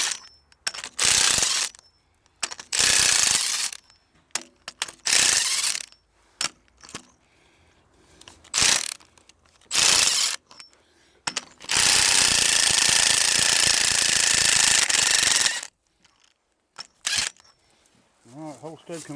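A Makita 3/4-inch impact wrench removes studs from a century-old Chicago Pneumatic steam engine and air compressor. It fires in repeated short hammering bursts, then one long sustained rattling run, all close up, with people talking between the bursts.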